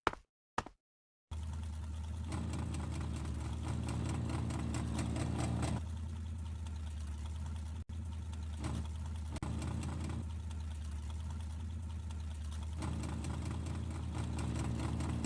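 A steady, droning motor vehicle engine hum in a video game runs continuously after a brief silent start, with a couple of short dips and faint knocks.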